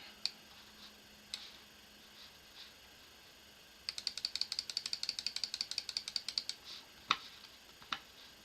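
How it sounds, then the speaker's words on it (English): Quick, light plastic clicks come in a rapid burst while trading cards from a late-1980s set are handled, with scattered single clicks before and after, close and fairly quiet. "Sorry for the clicking."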